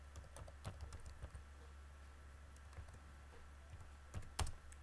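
Keys on a computer keyboard are tapped in scattered bursts while numbers are entered for C++ practice, with clicks near and fairly soft against a steady low hum and no one speaking.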